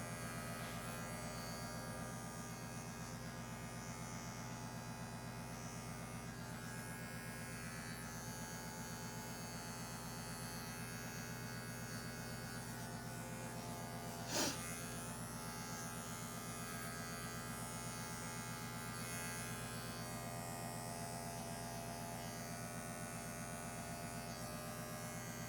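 Electric clippers buzz steadily and close up while shaving an animal's fur before surgery, a continuous motor drone running unbroken with one brief click partway through.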